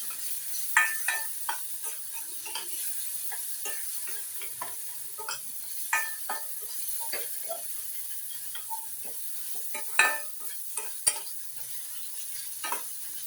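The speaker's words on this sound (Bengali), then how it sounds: "একটু নেড়ে নেড়ে মেশাতে হবে, যাতে তলায় লেগে না যায়, পুড়ে না যায় মশলাগুলো" Rohu fish dopiaza masala frying in a pan while a spoon stirs it steadily, giving a soft continuous sizzle broken by repeated scraping clicks and taps at close range, with no talking.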